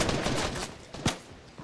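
Gunfire crackles in the Fortnite video game, with a rapid burst of shots at the start and a sharper single crack about a second in, all within a short, loud moment.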